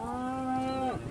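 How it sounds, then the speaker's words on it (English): A single long cow moo rings out during a cattle drive on a road, loud and close, holding steady before dropping off at the end, with no voices. "On the road, we encountered our first cattle drive, which required a major slowdown in speed."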